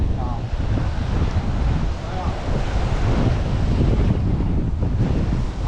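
Strong wind roars into the microphone at night by the water at Captree State Park during blue crab pole netting, a loud, steady buffeting rumble with lapping water underneath.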